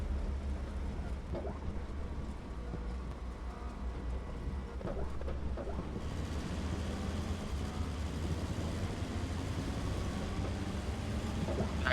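In a tank video game, a Panzer IV's engine drones nearby as a low, steady rumble, with faint mechanical clanks over it and a wider hiss joining about halfway through.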